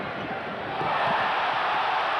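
Basketball arena crowd at a 1989 NBA Finals game between the Lakers and Pistons, a steady broad roar that swells louder partway through and stays loud, with no clear voices standing out.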